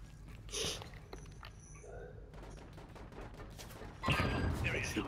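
Video game gunfire with bullets flying: scattered rattling bursts and thuds, loudest in a dense volley at the end, with a voice talking underneath.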